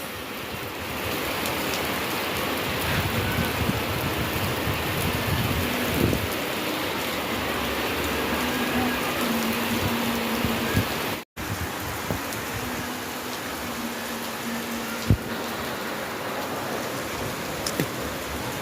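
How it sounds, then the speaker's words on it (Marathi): Steady summer rain falls and patters on surfaces, a dense, even hiss with occasional louder drops, continuing throughout with a brief cut midway. "उन्हाळ्यातील पाऊस"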